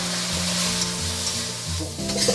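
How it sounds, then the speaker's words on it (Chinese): Chicken pieces, potato chunks and curry blocks stir-fry in hot oil in a pan, a dense continuous sizzle with steady scraping of the spatula, close and loud throughout. "我们下入土豆块，然后下入60克的咖喱块，给它炒香"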